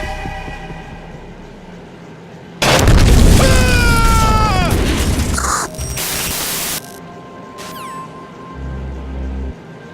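A bomb explosion in Metal Gear Solid 2 arrives as a sudden loud boom that turns into a long, noisy roar with descending whistling tones. It fades through static-like noise, and a few fainter electronic sounds follow.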